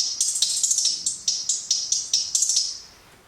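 A trap hi-hat treated with EQ and a vinyl effect plays loud, bright ticks in fast rolls and steady bursts, alone, with a soft crackly wash underneath and a decaying tail at the end.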